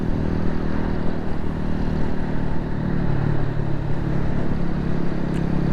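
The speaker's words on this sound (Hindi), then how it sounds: "यूं ही मैंने थोड़ी सी बाइक को तेज़ किया" Motorcycle speeding up on a Karachi street near Sohrab Goth, a constant loud engine rumble with road and wind noise throughout, no voices heard.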